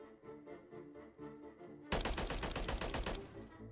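Rapid automatic gunfire in the Warzone video game, a dense burst of fast shots starting halfway through, loud and close, after a stretch of quieter game sounds.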